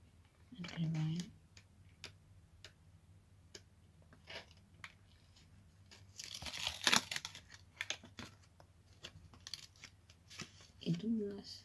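A paper surprise packet is opened by hand, with several crisp tearing, cutting and crinkling bursts between quiet pauses, close up, and a voice speaking Russian at times.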